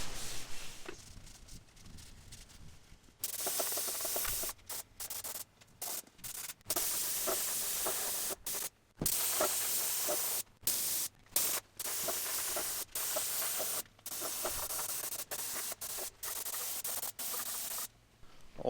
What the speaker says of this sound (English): get out the paint gun and hit all of this stuff with a bit of 2-pack chassis black